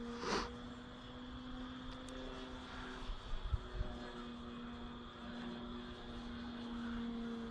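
A Sig Kadet Mk2 RC model airplane flying in a light breeze, its propeller engine a thin steady drone at a distance, faint under outdoor background noise.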